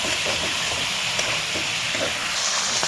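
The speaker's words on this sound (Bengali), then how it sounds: "মাংসটা আরেকটু ভাজা হবে।" Chicken pieces fry in a pan, giving a loud, continuous hissing sizzle with faint crackles throughout.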